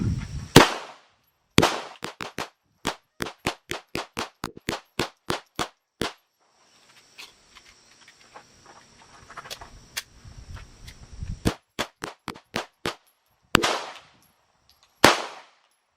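Tisas BR9 pistol firing rounds on an endurance test, a long string of sharp close shots in quick steady succession, a pause with faint background noise, then another fast string of shots.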